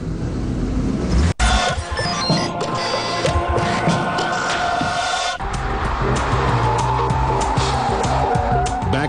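A Corvette lapping the Nurburgring while new brake ducts are tested: a loud, sustained engine roar at close range with shifting pitch and bursts of tire squeal, cut abruptly partway through.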